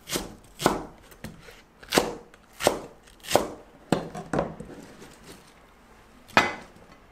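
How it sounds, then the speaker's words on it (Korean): A knife chops green onion (daepa) on a cutting board in a kitchen, giving a series of sharp, close knocks at an uneven pace, about a dozen strikes with short pauses between them. "대파 으슷으슷하게 썰게요."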